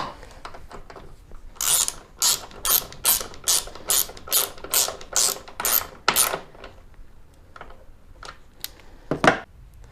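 Ratchet tightening a headlight mounting bolt on a 2021 Jeep Gladiator: a close, loud run of about ten rapid ratcheting bursts in steady rhythm, then a couple of isolated clicks, with no talking.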